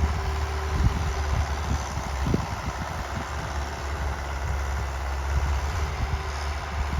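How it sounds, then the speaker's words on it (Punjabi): A Standard 50 tractor engine runs at a steady idle, a continuous low rumble with a faint knocking pulse, close by and unbroken. "ਆ ਟਰੈਕਟਰ 50 ਦਾ ਹੀ ਹੈਗਾ ਸਟੈਂਡਰਡ"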